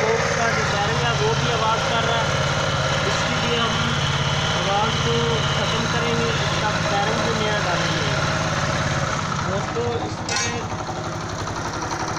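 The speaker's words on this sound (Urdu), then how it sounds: "یہ ہم کلچ جیسے پریس کرتے ہیں تو یہ ایک آواز آتی ہے جو کہ کلچ باکس کے بیرنگ کی آواز ہے" Motorcycle engine running steadily at close range with its clutch pressed, worn clutch-box bearing adding a rattle to the continuous drone, which dips slightly near the end.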